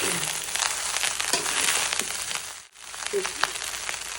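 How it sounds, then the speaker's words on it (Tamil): Vegetable fried rice with spring onion is stir-fried in a pan, a close, steady sizzle with scraping and tossing, briefly dropping out before resuming. "நம்ம வெங்காயத்தாள் ஸ்ப்ரிங் ஆனியனை சேர்த்துக்கலாம். நல்லா மிக்ஸ் பண்ணி விட்டுக்கலாம்."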